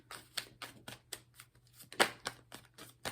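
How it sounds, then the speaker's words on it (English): Repeated riffling of a card deck in quick bursts, close and fairly quiet, with a low steady hum underneath. "I'm going to keep shuffling until I find it."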